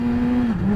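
A 2018 Yamaha R6 motorcycle engine hums steadily at high revs, its pitch dropping briefly mid-way as a gear shift comes through, loud and close throughout.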